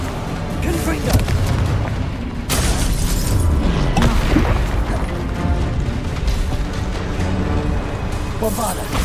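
Loud, dense game spell combat from Hogwarts Legacy, with repeated booming Confringo fire blasts and crashing impacts layered over a continuous clamor of battle, plus voices shouting spells.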